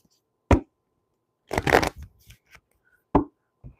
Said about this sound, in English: That was a terrible shuffle, though.